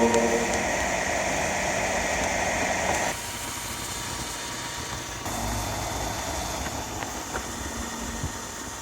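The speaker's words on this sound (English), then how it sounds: "The fan on this headset is crazy loud." An HTC Vive VR headset's cooling fan blows with a loud, steady whoosh and hum close by, stepping down in level partway through and then continuing as a constant drone.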